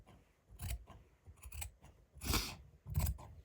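Scissors snip through fabric for a patchwork hoodie in four or five separate crisp cuts, each a short crunching slice with pauses between, close and fairly quiet.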